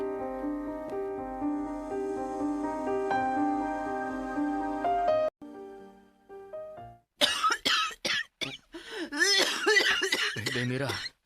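After a stretch of sustained, tonal music, a person coughs several times in harsh, close bursts that come in quick succession, with a voice-like rasp between them.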